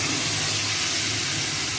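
Spice paste sizzles in hot oil over fried neem leaves for a neem-and-brinjal dish, giving a steady, close, even frying hiss with no talking.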